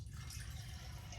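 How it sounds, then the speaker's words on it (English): Hot candle wax is poured into a container while making fragrance testers, giving a steady, close liquid trickle with a soft continuous splash. "I can pour my wax and then immediately pour the fragrance"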